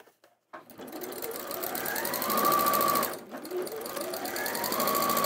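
Close and loud, a sewing machine runs continuous topstitching, a fast steady mechanical whir that briefly slows and dips midway before picking back up to full speed.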